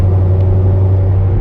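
A Corvette C6 Z06 engine drones low and steady under load at about 70% throttle, a brief continuous rumble with no voices.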